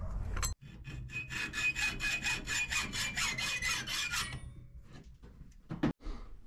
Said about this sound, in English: We will cut it with a handsaw at 2 inches, and we will go from there.